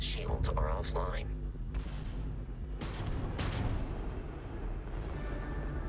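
Spaceship missiles firing in the space combat game Starfield, a series of heavy booming launches and blasts mixed with game sounds, with talk heard early on.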